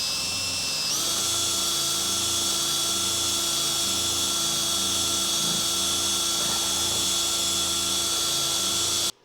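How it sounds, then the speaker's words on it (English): A power buffer whines steadily and loudly while polishing a part on a 1982 Honda CB 900F under restoration, a constant high drone with a faint rhythmic pulsing underneath, running without pause until it cuts off at the end. "we'll take this buffer and start buffing it up"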